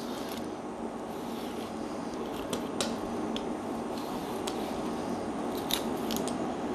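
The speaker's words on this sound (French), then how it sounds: "Faire glisser le couteau jusqu'à la fin." A knife sliding along a John Dory fillet: soft, close scraping with a few crisp ticks over a steady background hiss, and no talk.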